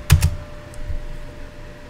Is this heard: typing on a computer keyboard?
yes